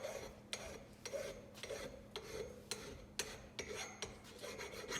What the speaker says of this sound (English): And this one we're gonna deburr the outside because it's gotta slide inside of that other shaft.